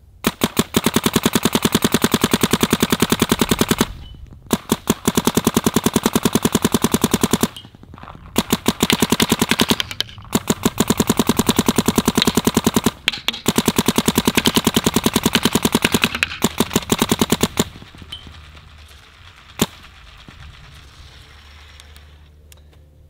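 Planet Eclipse Geo R5 paintball marker firing at 1500 PSI in rapid strings of shots, long fast bursts separated by short pauses, loud and close, ending with one isolated shot before quiet.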